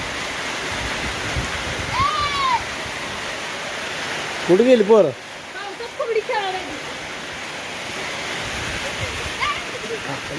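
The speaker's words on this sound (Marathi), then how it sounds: "पाऊस यायला लागले बघा मित्रांनो आता" Rain pouring down outdoors in a steady, hissing wash that runs the whole time, with people talking and calling out over it at moments.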